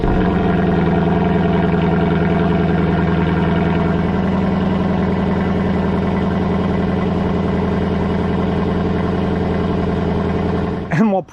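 A 2024 Lexus LC500 V8 exhaust note, a loud, steady, deep rumbling idle held close for several seconds before a sharp blip at the end, with a voice over it.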